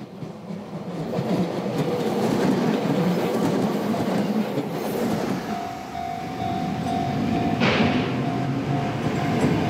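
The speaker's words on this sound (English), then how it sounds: "The trains rumble along between vegetable gardens, rice paddies and single-family homes." A suburban train rumbles along a line outside Kanazawa, a steady close roll of wheels on track, with a sustained whining tone emerging partway through and a brief sharp rise near the end. No voices.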